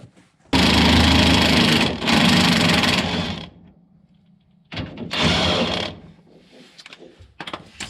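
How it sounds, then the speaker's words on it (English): An impact wrench works a nut off a bolt while installing small-block headers on a Mopar A-body Barracuda, with two loud sustained buzzing bursts, a pause, then another burst and short stutters, close by. "I'm just going to use my impact and a wrench if I can get it on there."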